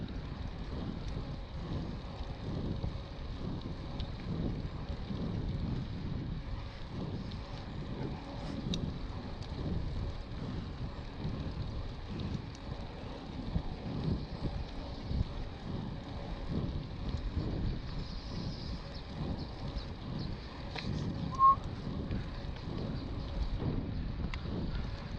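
Wind roars into the microphone while a bike is ridden against a headwind near a lake, a steady, loud, buffeting rush that runs throughout.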